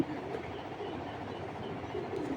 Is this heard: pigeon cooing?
yes